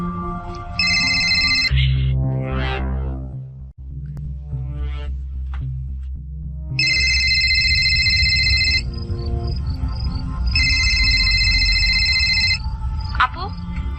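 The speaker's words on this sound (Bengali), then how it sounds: "তারপর সেদিন প্রায় রাত 9টা নাগাদ তৌসিফ ফোন করলেন জেসিকে।" A telephone rings in a Bengali radio mystery drama, two bursts of electronic ring tones over background music and narration-style sound design, close and clear.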